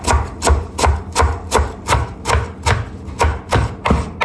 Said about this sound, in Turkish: Salatanın içine arkadaşlar dereotu doğrayacağız.